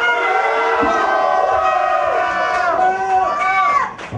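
A crowd at a hip-hop rap battle event in Orlando yells and cheers together in a loud, sustained roar of voices that rises and falls, with shouting throughout.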